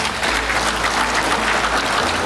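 Audience applause at a gathering of village nurses in Mojokerto, a dense, steady wash of clapping from many hands that holds evenly for a couple of seconds.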